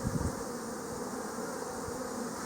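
Bees swarm around an open hive box during a natural beekeeping inspection, filling the air with a steady, dense, close buzzing hum that stays constant throughout with no voices.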